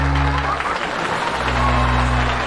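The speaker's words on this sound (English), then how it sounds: "Can I hear some applause for that one?" Audience applause at a comedy show, a broad wash of clapping and crowd noise lasting the whole moment, with a low steady hum underneath.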